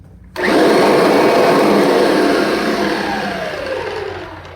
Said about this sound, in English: it's just gonna make the motor run a lot faster